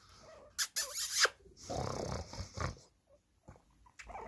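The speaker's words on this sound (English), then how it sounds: "he'll purr because he's a jumpy, scaredy pig" A jumpy, scaredy guinea pig purrs in short, low rumbling bursts up close, with quiet pauses between them.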